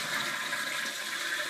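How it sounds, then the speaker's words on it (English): A short half flush from a toilet fitted with a water saver: steady, loud rush of water swirling down the bowl for the whole moment, close by with no talking. "Okay, that just did a short flush, and I heard it swirling down."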